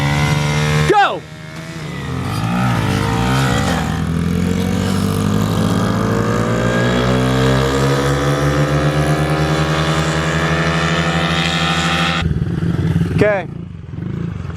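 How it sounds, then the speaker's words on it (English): A CRF 50 and an SSR 70 dirt bike drag race close by with loud buzzing engines. They rev up through rising gear sweeps, shift again and again, and then drop off. People talk around the run. "Here's some footage of the drag race."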